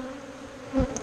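Bees hum close by at an open hive during introduction of Carniolan and Buckfast queens, a steady drone with a brief louder swell as one passes near.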